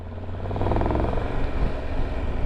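Triumph Tiger 1200 motorcycle, a 2022 model, pulling away from a campsite at Ragley Hall, its engine a steady loud drone with rising low rumble throughout.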